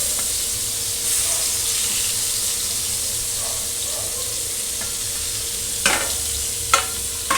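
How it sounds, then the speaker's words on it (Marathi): Chopped onion and tomato sizzle steadily in a pan, with occasional clinks and scrapes of a spoon stirring, a constant frying hiss throughout. "आणि तो परतून घ्यायचा"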